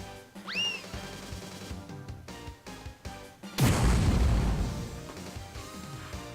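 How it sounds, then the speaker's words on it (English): An impact bomb in the video game Grandia II bursts into a loud, close booming blast after a rising whoosh and a few thuds, then rumbles away. "Here goes my impact bomb."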